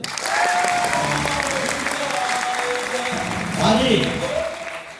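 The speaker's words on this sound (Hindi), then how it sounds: "बजाओ ताली जोर से" An audience at a Hindi motivational business talk claps loudly and continuously, a thick wash of applause lasting throughout while someone speaks briefly over it near the end.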